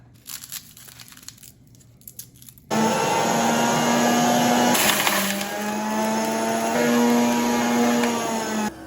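A juicer motor grinds garlic cloves, starting abruptly after a quiet stretch and then running loud and steady with a droning hum and crunchy crushing noise until it cuts off near the end.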